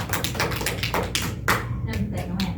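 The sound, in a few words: classroom applause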